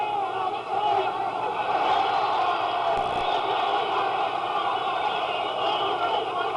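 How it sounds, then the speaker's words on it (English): A boxing arena crowd during round 12 of a bout: a dense, continuous roar of many voices cheering and yelling, steady and full throughout, with a commentator's voice blended into it. "The crowd comes alive."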